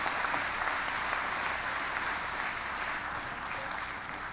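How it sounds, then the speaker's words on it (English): Audience applause fills a science summit session honouring its speakers: dense, steady clapping from a sizeable crowd, sustained evenly for several seconds with no voices over it. "can we give a round of applause to our speakers?"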